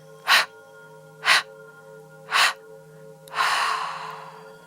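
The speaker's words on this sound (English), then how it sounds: "we're going to break up the exhale into 3 or 4 little contractions at the core." Three short, sharp exhale bursts evenly spaced, then a longer breathy release, close and clear over a faint steady hum; a yoga breathing exercise with the out-breath split into small core contractions.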